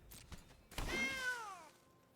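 A cat lets out a single clear, drawn-out meow close by, after a few soft thumps, in a quiet indoor room.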